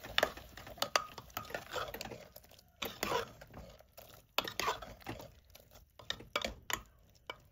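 Metal clinks and clatter of a lid going onto a pot of taro leaf and potato curry with added water, several sharp knocks scattered among quieter scraping, close and fairly soft, no talking.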